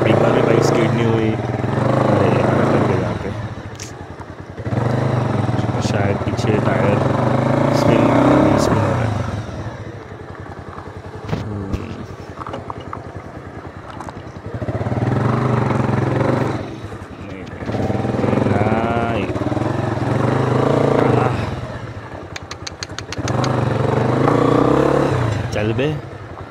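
A motorcycle on Scorpion-type road tyres rides along a road near Usgaon Dam in Mumbai. The engine hum is loud and steady, rising and falling in long surges with brief dips between, and people talk over it at times.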